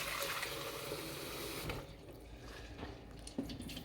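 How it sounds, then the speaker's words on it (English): Tap water runs over peas being washed in a kitchen sink, a steady close splashing flow that drops away after a couple of seconds to quieter trickling and drips. "How much times would you say that we wash the peas out?"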